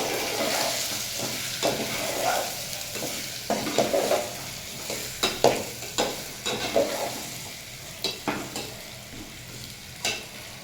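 Mung dal with turmeric being dry-fried in a pan for a dish with sweet pumpkin, heard as a quiet continuous sizzle broken by regular scraping strokes of a spoon stirring the lentils, close and without talk.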